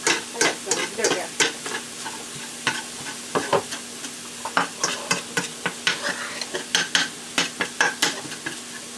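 Canned fire roasted tomatoes sizzle and fry in a pan while being stirred, with steady frying hiss under a rapid series of sharp scraping stir strokes that run close and fairly loud through the whole stretch, no talking.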